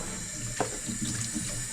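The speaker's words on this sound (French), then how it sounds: "Donc après avoir égoutté, on va rincer simplement les tranches." Salted eggplant slices rinsed under a running kitchen tap, a steady close hiss of flowing water with small splashes as the slices are moved about.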